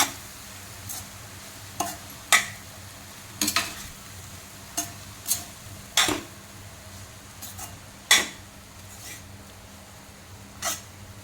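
A spoon scraping and stirring ghee-fried chana dal laddu mixture in a pan, sharp irregular clinks and scrapes every second or so over a low background, close by with no talk.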